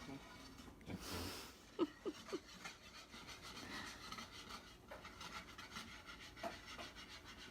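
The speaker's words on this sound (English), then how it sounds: "your stirring technique is excellent" Fudge mixture is stirred in a pot, giving a steady soft scraping and rubbing that runs throughout, with a few sharper knocks early on, near and fairly quiet.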